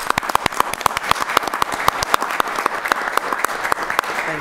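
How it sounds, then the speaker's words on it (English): A round of applause at a city council meeting: a room full of hands clapping steadily and fairly close, the dense patter holding evenly for several seconds with no talking over it. "Let's give him a round of applause."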